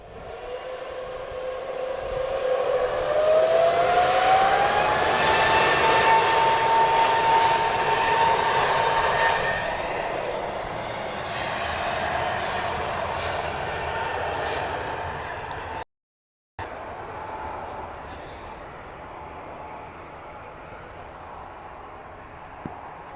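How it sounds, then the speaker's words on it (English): Airbus A330neo jet engines spooling up for takeoff at Lisbon Airport: a loud, steady roar with a rising whine that climbs and holds, then slowly fades as the aircraft rolls away into the distance. "We like to do a little bit of a zoom before they spool up for takeoff"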